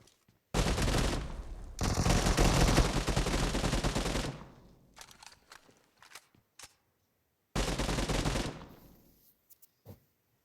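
Sustained bursts of rapid gunfire in the video game PUBG, loud and dense, with a long volley, scattered clicks and shots between, then another shorter burst.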